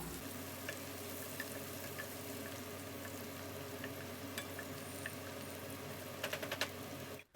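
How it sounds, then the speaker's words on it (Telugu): Onions sizzle steadily with a pinch of turmeric in a pan for a bitter gourd masala curry, a constant close crackling fry with a few soft clicks of stirring near the end. "ఇప్పుడు ఇందులో చిటికెడు పసుపు వేసి ఆనియన్స్ని బాగా కలర్ చేంజ్ అయ్యే వరకు కూడా ఫ్రై చేసుకుందాము"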